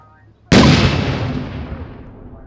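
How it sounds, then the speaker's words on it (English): A grenade goes off in a video game: one sudden, loud, close blast after near silence, its rumbling roar fading slowly over the next two seconds. "Throwing a grenade"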